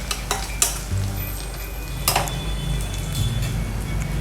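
Ginger, garlic and coriander leaves fry in hot oil for mushroom pulao and are stirred with a utensil. A steady close sizzle runs throughout, broken by a few sharp scrapes and clinks against the pan.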